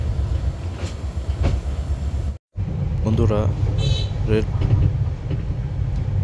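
The Torna Nishita Express pulls out of Dhaka Airport railway station, heard as a low, continuous rumble with rhythmic wheel clatter inside a new Korean-built coach, briefly cut off once, while someone talks over it.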